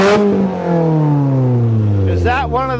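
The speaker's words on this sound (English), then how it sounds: "One of those fart can exhausts you got on there?" A Toyota GTS fitted with a cheap aftermarket fart-can exhaust revs up in a long, loud, rising drone that sags back down, with a second sharp burst of revving near the end.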